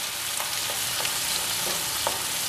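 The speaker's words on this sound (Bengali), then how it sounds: "আর দিয়ে দিচ্ছি টমেটো কুচি এগুলোকে ভালো করে ভেজে" Chopped tomatoes frying in a pan for Punjabi-style chicken curry, a loud, dense, continuous sizzle close up with faint stirring touches.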